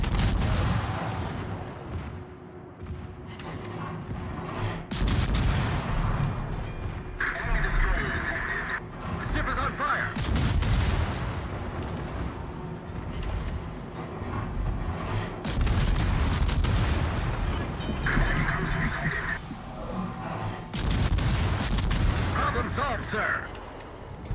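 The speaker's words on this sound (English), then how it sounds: "Concentrate fire on the target." Naval gunfire from a warship video game, with the heavy booms of a destroyer's guns firing at a target in repeated bursts under steady battle noise and radio-style voice callouts.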